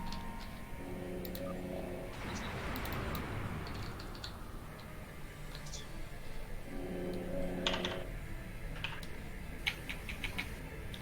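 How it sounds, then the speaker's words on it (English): A computer keyboard is hit hard during PC gaming, with scattered sharp clicks and taps spread across the stretch and a voice briefly heard in places. "Smack, smack, smack, smack, smack that keyboard."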